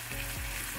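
Ground pork (giniling) frying in a pan for tortang talong gives off a brief, quiet, steady sizzle with no voices.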